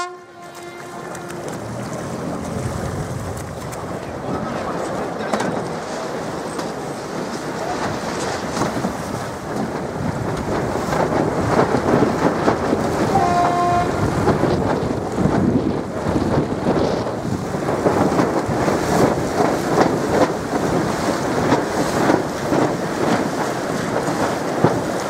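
A sailboat racing in the Trophée Pinatel regatta off Paris, with steady wind rushing across the microphone and waves washing against the hull, growing louder and rougher midway through; no talking.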